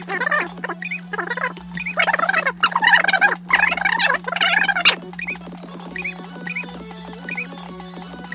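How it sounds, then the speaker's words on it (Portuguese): Multiplied chickens cluck in the video game Miner Ultra Adventures 2, several loud, rapid gobbling bursts in a row, followed by quieter game sounds and a steady electronic hum. "Valeu a pena só pra ouvir o franguinho multiplicado"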